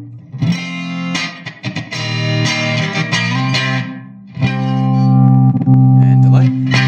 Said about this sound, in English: Let's try that with a bit of reverb.